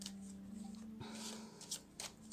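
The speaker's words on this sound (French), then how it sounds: "on va battre les cartes" A deck of oracle cards is riffled and shuffled close by but quietly, a brief flutter followed by a few soft snaps, with a faint steady hum beneath and no speech.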